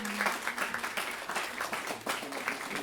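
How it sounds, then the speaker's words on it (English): Audience clapping at an internship celebration event, a steady wash of applause from a crowd with some voices mixed in, moderately loud throughout. "clap it up for Lucy"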